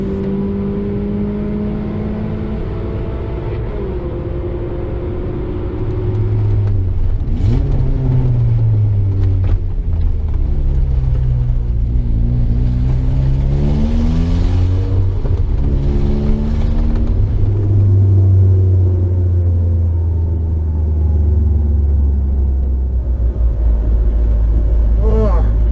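Race car lapping Manfeild circuit during a Superlap time-attack round, engine note sweeping up and down through gear changes and corners, loud and close at times, with a steady low rumble and commentary over it.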